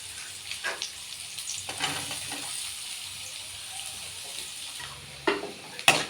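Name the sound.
onion frying in a pan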